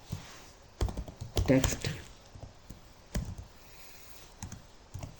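Computer keyboard typing heard up close in short bursts of clicky keystrokes, spread across the stretch between pauses, while a voice talks over part of it.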